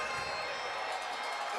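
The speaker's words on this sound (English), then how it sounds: "Crowd trying to inspire the hometown Wave to see if they can hang on here" An indoor soccer crowd cheers and roars for the home team in a dense, steady wash of voices filling the arena, with a commentator talking over it.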